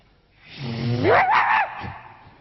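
On a concert stage, a performer vocally imitates dogs fighting and biting, producing a rising, strained snarl and yelping burst of about a second, loud and close with no other sound around it.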